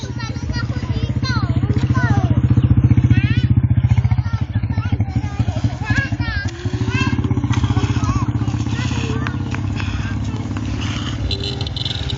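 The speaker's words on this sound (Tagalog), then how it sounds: "Oh, may tricycle yun." A motorized tricycle engine rumbles steadily nearby in Pangasinan, its low throbbing continuous throughout, with street clatter and distant voices mixed in.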